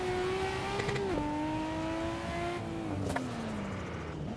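A turbocharged Nissan Skyline GT-R R34 drives on a track in Assetto Corsa, its engine droning loud and steady. The pitch drops sharply at a gear change, then eases down gradually under constant power.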